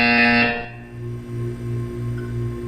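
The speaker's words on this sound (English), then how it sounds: "When you hear the buzzer, look down at the floor." Test chamber buzzer in the video game Portal 2, a short bright electronic buzz at the start fading into a low droning hum that pulses steadily underneath.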